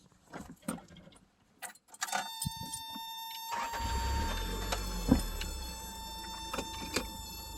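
A 1987 Toyota Tercel wagon with its drivetrain binding in 4-wheel drive: a few scattered clicks and knocks, then a steady motor hum with a high whine and low rumble that sets in partway through and holds close and moderately loud.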